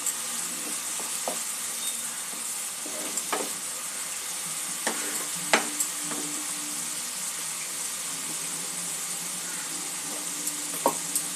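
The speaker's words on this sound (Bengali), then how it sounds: "ভালো করে মশলাটা কষিয়ে নেব যতক্ষণ না মশলা থেকে তেল ছাড়ছে।" Bengali spice masala for a boal fish curry fries in oil in a pan, a steady close hiss of sizzling under occasional light clicks and scrapes from stirring, constant throughout.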